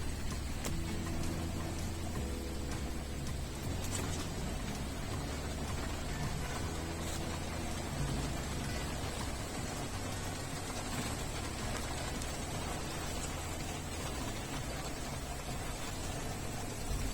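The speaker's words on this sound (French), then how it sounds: "J'espère que ça va pas durer longtemps non plus, la pluie, parce que j'aime pas trop ça, la flotte" Steady rain falls on a rural morning after a stormy night, a constant broadband hiss of drops on surfaces lasting throughout, with faint low rumble underneath and no voices.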